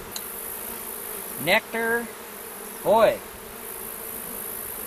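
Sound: honey bees buzzing around an open hive box

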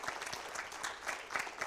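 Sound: church congregation applause

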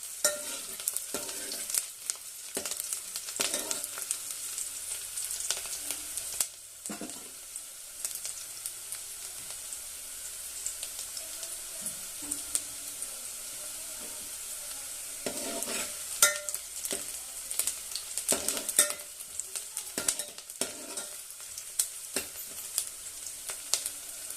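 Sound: onion being stirred and roasted in a pan

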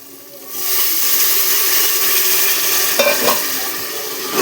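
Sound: vegetables sizzling in oil, tempering for khichdi

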